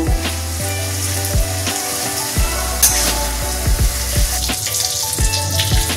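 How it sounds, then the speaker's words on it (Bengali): Dried red chilies, bay leaves, whole garam masala and cumin seeds sizzle and crackle in hot oil, with scattered pops and the clatter of stirring throughout. "ওইটুকু তেলে 3টে শুকনো লঙ্কা, 3টে তেজপাতা, গোটা গরম মশলা আর সাদা জিরে ফোড়ন দিয়ে দিলাম"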